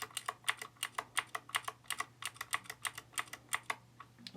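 Fast typing on an Anpro RGB 60% mechanical keyboard with Gateron Blue switches, a brisk run of crisp, clicky keystrokes heard up close with a faint hum beneath.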